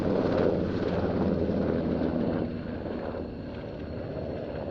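A German Army NH-90 helicopter at the Roskilde airshow gives off a steady, dense rotor and turbine roar from fairly close by, easing slightly in loudness partway through.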